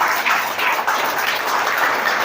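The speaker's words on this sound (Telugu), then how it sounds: "నమ్మిన వాళ్ళ దగ్గరగా చప్పట్లు కొట్టండి" Members of a church congregation clap together during a pastor's sermon in steady, fairly loud applause that holds throughout with slight surges and no voices.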